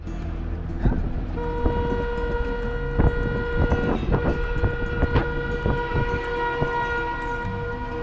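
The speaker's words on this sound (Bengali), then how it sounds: "ডান দিকে মনে হয় ট্রেনের শব্দ পাওয়া গেল" Train rumbling past a tea garden after rain, a steady broad roar with sustained tonal hum lines and repeated clanking transients, fairly close and continuous throughout.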